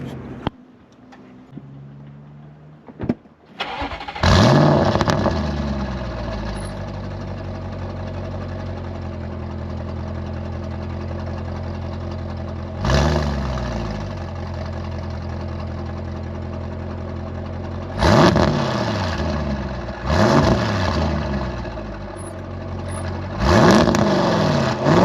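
A Stage 2 Audi RS6 with 750 HP and a Milltek exhaust starts up and idles loudly, then is revved in several sharp blips that sweep up and fall back to a steady rumble.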